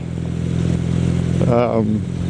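Motorcycle engine running with a steady low droning hum on the street, close and fairly loud throughout, with a brief voice breaking in near the end.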